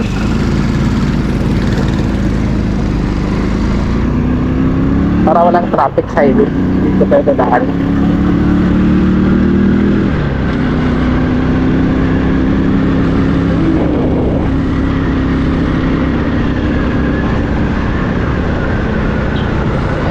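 A motorcycle rides along a back road toward a highway, its engine a steady close drone with a few short revs midway, while the rider talks over it throughout.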